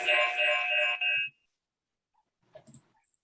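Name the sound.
mobile phone ringing during meeting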